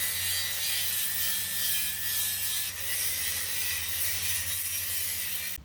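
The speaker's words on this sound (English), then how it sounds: "So next step is we got to cut the muffler out" A muffler being cut out from under a third-generation Toyota 4Runner, giving a steady, loud, continuous grinding and rasping metal-cutting sound with a low mechanical hum beneath, running unbroken throughout with no talk.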